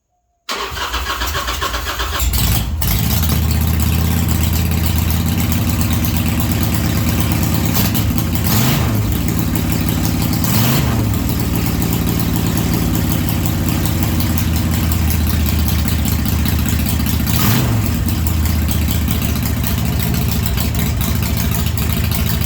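A 1999 Harley-Davidson Sportster fitted with a custom-built exhaust cranks over, fires up and then settles into a steady, loud, close idle with a few throttle blips.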